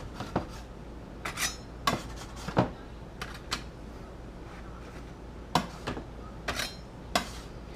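A metal spatula scrapes chocolate chip cookies off a small metal cookie sheet in short clinking, scraping strokes. About a dozen bright hits arrive in irregular clusters, close up against a quiet background.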